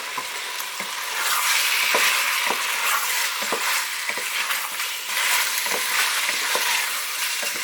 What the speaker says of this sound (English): it's getting louder and louder and louder the more of that liquid that's evaporating and the more it turns back to frying